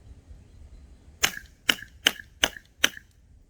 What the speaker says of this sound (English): And now we'll move over to the Kel-Tec.